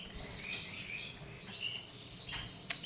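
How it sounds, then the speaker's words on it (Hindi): Small birds chirp faintly in short scattered calls outdoors in the early morning, where namkeen snacks are put out for them, with a soft background hiss and no talking. "ये अपने टाइम पे आ जाती हैं चिड़िया नमकीन खाने।"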